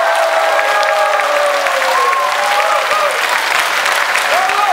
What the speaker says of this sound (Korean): 한 번 더 큰 박수 부탁드립니다